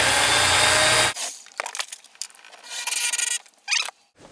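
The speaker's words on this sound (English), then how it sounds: "I'll drill out these little holes and attach this wall to that stud" A power drill bores holes into a wooden wall of a tiny house, a loud grinding whir that stops suddenly, followed by scraping, rubbing and splintering wood noises and another short burst of drilling near the end.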